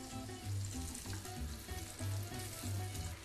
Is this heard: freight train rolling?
no